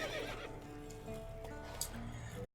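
Roach, Geralt's horse in The Witcher video game, neighs with a loud whinny amid hoofbeat clip-clops and game ambience, the neigh running nearly continuously and cutting off abruptly.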